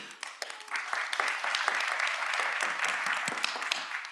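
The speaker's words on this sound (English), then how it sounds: "I just wanted to give you all another round of applause for just coming today" An audience at a Chicago Public Schools board business meeting claps steadily for several seconds, a dense, moderately loud patter of many hands that starts in scattered claps and holds through to the end.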